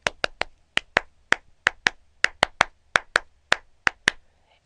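Two people clapping a rhythmic piece, crisp close hand claps in tight rhythmic clusters of two and three with short gaps, dry and precise against a near-silent background.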